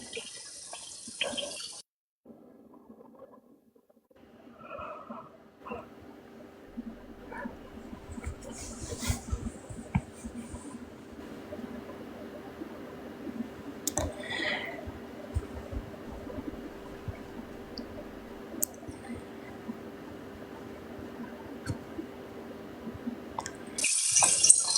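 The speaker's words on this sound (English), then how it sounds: "Can y'all still hear my water running now?" A kitchen tap runs into a sink with a steady, soft hiss of flowing water that lasts the whole time, moderately close, with occasional faint clatters over it.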